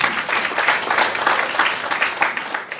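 A worship congregation at a satsang claps together in praise of Jesus, a loud, even rush of many hands with a slightly pulsing rhythm and no speech over it.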